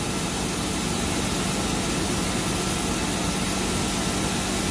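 A 2008 Tsugami SS20 CNC machine spindle runs steadily at 2,000 RPM, giving a constant, dense whirring hum with a broad hiss that holds at even loudness throughout.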